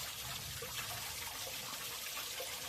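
A small hillside waterfall trickles and splashes continuously, a soft, steady wash of running water with no voices.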